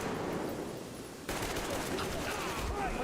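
Gunfire in the video game Metro Exodus, a steady rattle of shots under a constant noisy game background that jumps louder partway through, with a dense burst of firing near the end.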